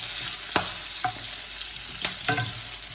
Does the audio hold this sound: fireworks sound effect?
no